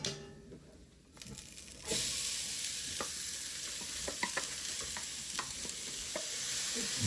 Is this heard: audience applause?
no